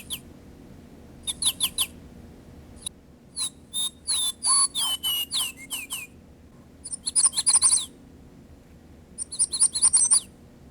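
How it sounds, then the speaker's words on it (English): A Square One wake-up light plays its bird call alarm: clear electronic chirps and warbling whistles come in short repeated bursts with pauses between them, over a faint low hum. "the Square One has a pleasant bird call alarm as well."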